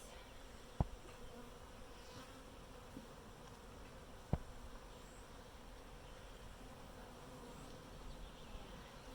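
Continuous low honey bee buzzing fills the background, with two sharp clicks breaking through; no voices.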